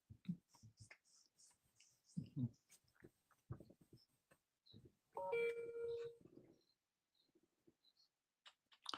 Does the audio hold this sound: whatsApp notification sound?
yes